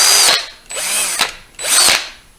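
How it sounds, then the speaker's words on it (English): A handheld power drill spins a threaded rod fitted with a nut and washer to wind welding wire onto a wire-feed welder spool, whining up in three short bursts that each spin up and slow down, close and loud. "stuck the end of that threaded rod in my drill"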